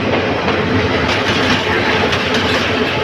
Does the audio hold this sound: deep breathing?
no